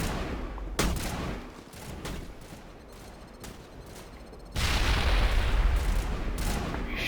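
Gunfire in the sci-fi shooter Mass Effect, scattered sharp shots over a busy background, then a loud sustained burst of rapid fire that carries on to the end.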